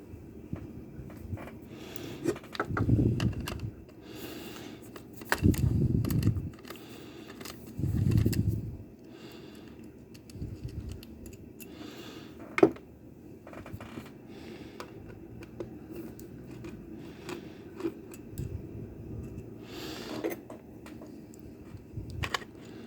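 Screws come out of the interior side of an Easilock lock with three distinct bursts of close mechanical scraping and creaking, separated by quieter handling noises, small clicks and one sharp tap.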